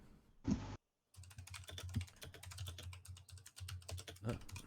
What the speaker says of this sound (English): I can hear Furious typing.